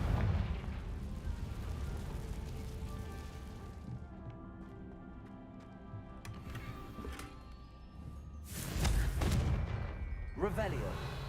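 Confringo fire-spell explosions in the video game Hogwarts Legacy: a low rumbling barrage with a sharp, loud blast near the end and a shorter burst after it, under a game soundtrack with brief voices.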